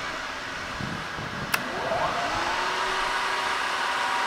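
A second head on a new 9 x 49 inch Acra variable-speed vertical milling machine starts up and settles into a steady mid-pitched motor whir alongside the first running head, with a brief click as it switches on.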